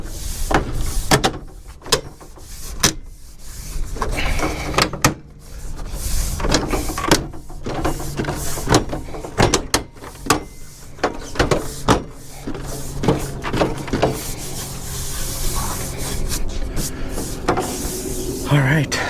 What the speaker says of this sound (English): Now all you gotta do is just snap it in place